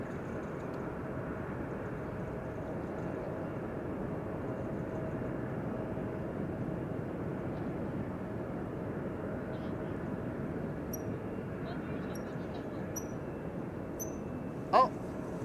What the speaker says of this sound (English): Very graciously rotating and taking off.